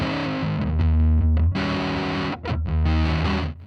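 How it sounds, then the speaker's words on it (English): Electric guitar pushed into huge fuzzy, distorted tones, thick sustained chords ringing loud and continuous with two brief breaks, no voices. "he then pushed things into those huge fuzzy distorted tones"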